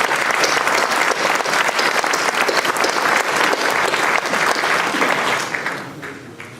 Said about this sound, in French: il faut applaudir le département pour le remercier.